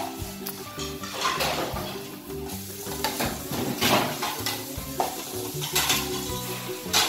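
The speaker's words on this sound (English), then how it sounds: "We are cleaning the dishes in the kitchen for Mommy." Children wash dishes in a home kitchen, with clattering pots, pans and cutlery and running-water hiss in irregular bursts at moderate level, no talk.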